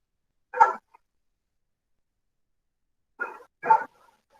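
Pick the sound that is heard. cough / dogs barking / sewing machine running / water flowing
dogs barking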